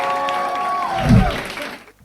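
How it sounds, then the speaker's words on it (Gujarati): Applause breaks out from the crowd at a Gujarati comedy roast show, a short clapping burst swelling near the middle over a tonal backdrop before fading out. "આપણે એમને હમણાં તાળીઓ થઈ જાય યાર."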